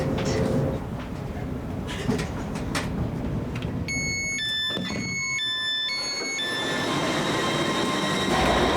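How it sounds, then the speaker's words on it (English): Steady rumble and hiss of a Hitachi electric train in motion in South Wales, with a series of high electronic tones sounding midway over the running noise. "Welcome aboard this Great Western Railway service to Cardiff Central."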